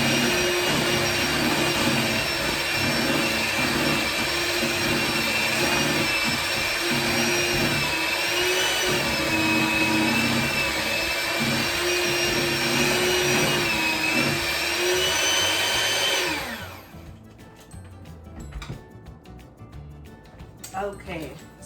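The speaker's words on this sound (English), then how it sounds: "I think I'm gonna mix it for a quick second before I add the protein powder." Electric hand mixer whirring through protein cookie dough, a loud steady motor whine that holds for about sixteen seconds, then cuts off, leaving quiet handling noises.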